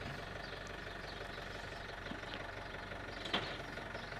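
A tractor engine idles steadily with a low, even rumble and faint knocking, continuous throughout, with one brief clunk near the end.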